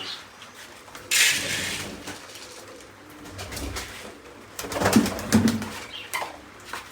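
Pigeons coo softly nearby while being fed wheat grain, amid rustling and a burst of wing flaps, with scattered bumps and shuffling, no speech.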